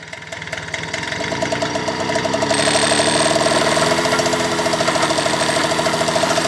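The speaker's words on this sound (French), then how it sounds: "Il tourne nickel, j'accélère un petit peu pour voir." A cold Piaggio Ciao 50 moped engine, unused for ten years, runs close by with a rattly idle, then revs up slightly to a steadier, louder buzzing note that holds.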